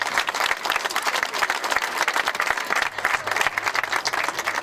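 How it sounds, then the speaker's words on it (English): Crowd at an outdoor charity heart walk event gives sustained, lively applause, dense clapping at an even loudness from start to finish. "Let's give them a round of applause as well."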